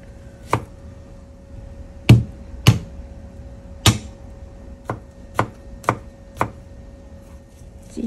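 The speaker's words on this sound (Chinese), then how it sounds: "再切少少姜落去啦" A knife chops ginger on a cutting board in about ten crisp, separate strokes, loud and close, with uneven pauses between cuts.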